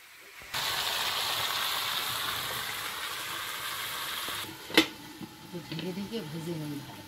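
Oil hisses and sizzles steadily in a covered pan in a hot tin-walled outdoor kitchen in the Sundarbans, a continuous close frying sound for several seconds before a sharp knock and then people talking over it.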